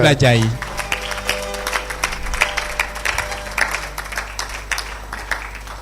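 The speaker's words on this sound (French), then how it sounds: "Acclamez pour le Seigneur." A church congregation applauding, a burst of rhythmic clapping with scattered voices rising after a loud opening note, moderately close and sustained.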